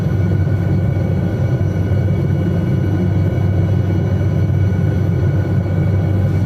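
Steady, loud rotor and turbine drone from an SA315B Lama helicopter in a flight simulator, holding a constant low hum with no talking.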